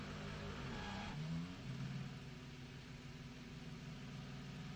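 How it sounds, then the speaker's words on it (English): A WEC Toyota race car, the number 8, pulls out of the pit lane at Spa-Francorchamps after a fuel stop. A steady, loud engine drone runs throughout, with a brief rising pitch sweep early as it revs back up. "It's electric power in the pit lane. And then it revs back up."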